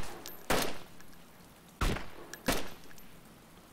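Suppressed AK-74 fire in a video game: three separate muffled bursts of thudding shots spaced a second or so apart, each with a short decaying tail, over quiet background noise.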